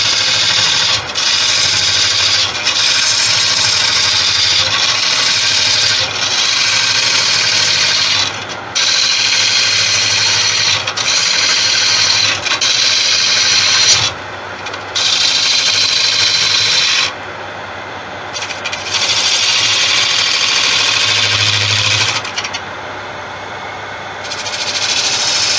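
A wood lathe hollows an end-grain Tigerwood bowl from an oddly shaped blank: a steady, continuous rasping scrape of the tool against the spinning wood, broken by a few short pauses where the cut lifts off, with no talking.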